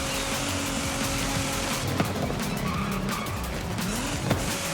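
Toyota Yaris in the racing game Forza Horizon 5, its tires squealing and skidding through a corner over a steady engine drone, loud and continuous.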